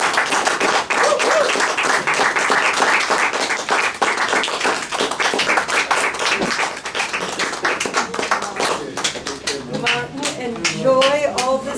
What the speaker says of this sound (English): Enjoy all this applause for you.